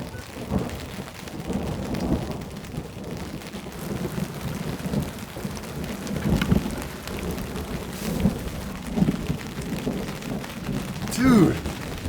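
Rain falling steadily at a campsite, a soft continuous patter with low rumbles, while people talk quietly nearby.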